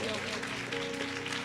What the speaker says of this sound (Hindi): जोर से ताली बजाओ ठंडे जे, जोर से ताली बजाओ।